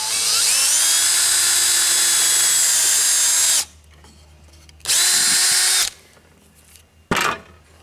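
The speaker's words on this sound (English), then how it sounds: "just pre-drill the hole." A power drill whines at high speed for several seconds, stops, then runs again in two shorter bursts, close and loud.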